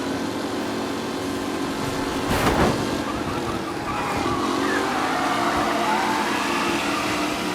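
Race car engines roar during a race in Mafia: Definitive Edition, with loud revving motors, a sharp tire squeal and skid partway through, and cars passing close by.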